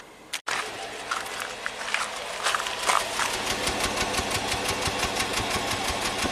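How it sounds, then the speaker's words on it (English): Jeep Pentastar V6 with a cylinder 4 misfire running under the hood while the cooling fan blows, giving a steady rushing whoosh over a regular, uneven knocking pulse, heard up close after a brief thump at the start. "Here's the cooling fan. Okay, cooling fan is blowing."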